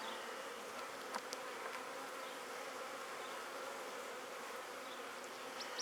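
Honeybees buzz in a steady, dense drone at an open beehive during an inspection after a colony split, with a few louder passes near the listener and no voices.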